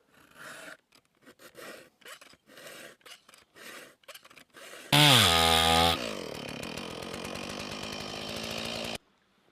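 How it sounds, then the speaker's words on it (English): A saw cutting wood, first in rhythmic rasping strokes, then a loud, close, sustained buzzing run that suddenly drops lower and keeps grinding until it stops abruptly. "Got my saw stuck."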